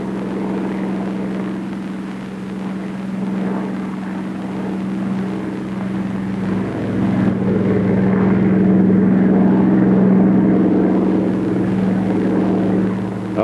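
A P-39 fighter plane engine drones at full throttle, a steady, loud propeller hum that builds a little partway through and holds with no break.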